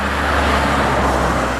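A Toyota car drives past on a busy main road in Snowdonia, a broad steady whoosh of tyres and engine close by, with general traffic hum filling the background.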